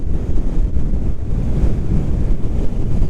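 Strong wind roars steadily around a boat riding at anchor over a muddy bottom, sustained near 30 knots with gusts, buffeting the microphone in dense low rumbling bursts with a faint wash of water beneath; no one speaks.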